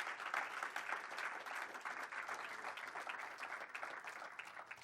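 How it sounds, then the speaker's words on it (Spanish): A church congregation applauds during a Spanish-language sermon, a steady, fairly soft wash of many hands clapping at moderate distance, continuous throughout with no speech over it. "Denle un aplauso al Señor"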